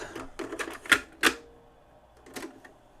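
The cassette deck mechanism of an RCA Sound Trak boom box RP-7879 produces several close plastic clunks and clicks, with two sharper mechanical snaps near the middle and a softer click after a pause.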